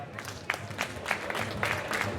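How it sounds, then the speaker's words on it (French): Faint, distant applause from an audience at a crab festival in Guadeloupe, a short burst of scattered clapping with light crowd noise. "On les applaudit, s'il vous plaît"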